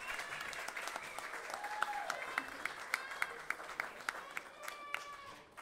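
Applause from an audience at a dance school recital, steady dense clapping filling the hall with some sharper individual claps standing out and voices talking over it.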